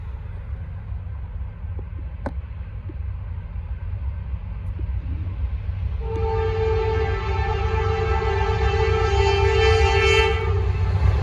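A Norfolk Southern freight train with a single locomotive rumbles past steadily, and partway through a loud sustained horn blares and holds to the end.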